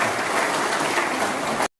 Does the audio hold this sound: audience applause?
yes